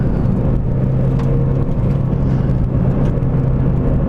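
Steady engine rumble and road whir from a 1999 Mazda Miata NB on the move, a continuous close drone with little change and no clear shift audible.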